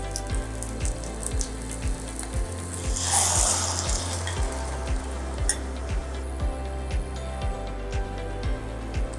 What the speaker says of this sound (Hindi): और अब इसके अंदर मैं ये ग्रेवी जो हमने रेडी की है वो डाल दूँगी।